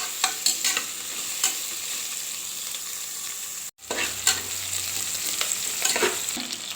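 Onions frying in a pan for a drumstick-leaf pulao, a steady close sizzle broken by repeated scraping stirs, with one brief dropout midway.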